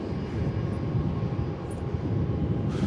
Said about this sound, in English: So we've got the A330 landing on runway 34.